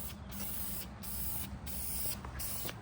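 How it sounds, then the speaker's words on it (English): Primer hisses from a spray can onto a Yamaha FX1 jet ski in steady bursts, about five spray passes with brief gaps, close and loud with no talk. "Primer's going down."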